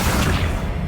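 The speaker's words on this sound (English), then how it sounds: "Accio." Accio spell cast in Hogwarts Legacy: a short, dense burst of whooshing, booming noise lasting under a second, loud and close.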